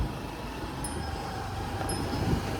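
A low continuous rumble of a train rolling past at night, with a couple of thin high squeals from the wheels.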